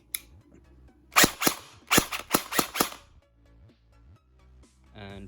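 KWA VM4 Ronin T6 airsoft rifle on a 1300 mAh 7.4 V LiPo firing six sharp semi-auto shots in an uneven rhythm, close and loud, with quiet gaps between.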